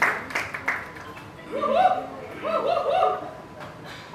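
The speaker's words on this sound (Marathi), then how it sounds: "जोरदार टाळ्या झाला पाहिजे" Audience applause at a song launch event rattles briefly at the start, then fades as voices carry over it.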